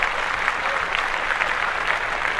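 Steady applause from a group, a dense continuous patter of clapping at moderate loudness with no pauses.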